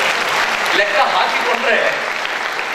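Audience applause at a public speech in Ballari, a dense wash of clapping filling the whole stretch at steady, fairly loud level with no voices breaking through.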